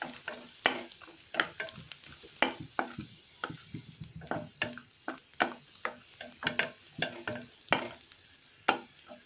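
Cashews frying in a pan for aval laddu, a soft sizzle punctuated by frequent sharp scrapes and taps of a spoon stirring the nuts, close but quiet, with no voices.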